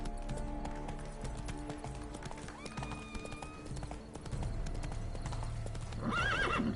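Horse hooves clip-clop at a gallop in The Witcher 3, steady and close, ending in a loud neigh near the finish.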